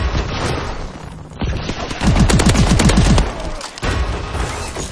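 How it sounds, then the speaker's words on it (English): Machine gun fire in Call of Duty Advanced Warfare gun game: loud, rapid bursts of gunshots with a fast rattling rhythm, most intense midway, amid booming explosions and dense game noise. "Eat my machine gun!"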